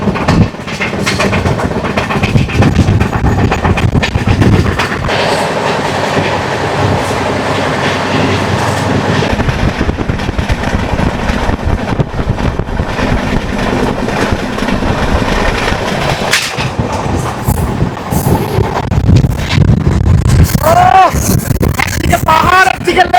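Puri Gandhidham weekly SF Express running along Chilka Lake, heard from on board as a loud, continuous rumble with steady clickety-clack of wheels over rail joints and occasional scraping squeals near the end.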